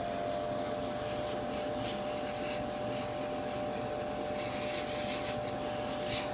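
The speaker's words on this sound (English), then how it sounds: "And now one last blast of air." Steady hiss of compressed air from an airbrush blowing across a Gundam RX-78-2 model frame, a continuous broadband rush held evenly for several seconds with a faint constant hum beneath and no talk.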